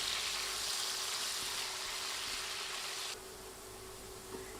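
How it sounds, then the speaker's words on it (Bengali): Potatoes fry in oil over medium heat, giving a continuous moderate sizzle that drops noticeably quieter partway through, with a faint click just before the end. "মিডিয়াম আঁচে আলু 4 থেকে 5 মিনিট ভাজবো।"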